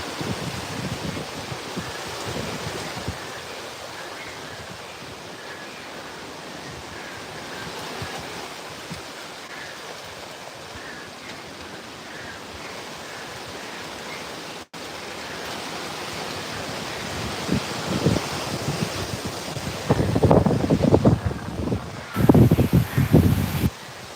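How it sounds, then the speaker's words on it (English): Strong wind ahead of Hurricane Milton roars steadily like distant surf, building into louder, harsher gusts toward the end. "Luckily, no more rain right now, just super intense wind."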